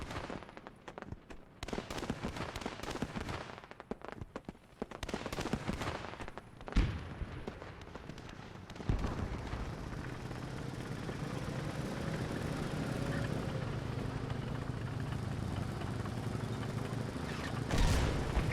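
Artillery shells burst in a WW2 tank battle video game: a dense volley of sharp booms and cracks early on, then a rumbling engine drone with a whistling shell and a final distant blast.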